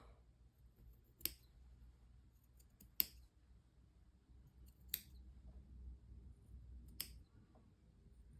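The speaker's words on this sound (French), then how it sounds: "On va venir couper les bords." Scissors snip the edges of velvet-stitch punch needle loops, with four crisp, separate cuts spaced about two seconds apart against a quiet background.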